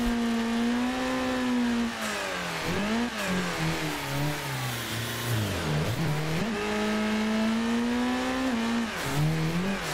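Car engines rev in a racing video game played on a Cammus C12 direct-drive wheel, a loud, clear engine note rising and dipping as gears shift, with brief falls and climbs in pitch and no talk.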